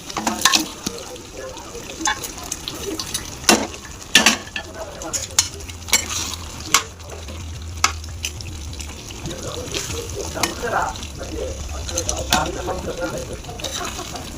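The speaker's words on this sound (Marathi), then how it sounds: "त्याच्यामध्ये आपल्याला छोले टाकायचे." Boiled chickpeas are tipped into roasted masala in a pan for chhole bhaji and stirred, giving scraping spoon strokes and sharp clicks over a steady low sizzle with no talk.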